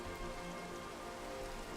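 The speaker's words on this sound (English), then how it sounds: "That rain came on pretty fast." Steady rain falls in Minecraft, a dense, even hiss of drops spread across the whole clip, fairly loud and constant with no voices over it.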